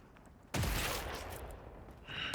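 Spread ammo gunfire in Monster Hunter Wilds bursts out suddenly as a loud, close, blasting volley that trails into a rumbling decay, followed by a second surge of noise near the end.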